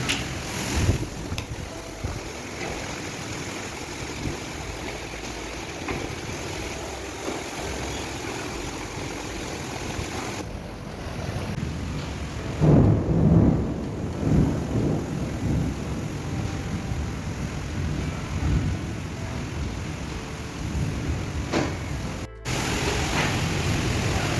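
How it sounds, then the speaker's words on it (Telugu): Heavy rain and strong gusting wind during a storm, a steady broadband roar throughout with louder surges near the middle, and no voices. "ఆల్రెడీ ఇక్కడైతే వర్షం అయితే స్టార్ట్ అయిపోయింది ఇక్కడ గాలి చూడండి"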